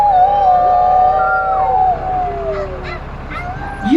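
Several people imitate a wolf howl together, with overlapping drawn-out voiced howls that rise and fall at different pitches, loud and close, trailing off into a few separate calls.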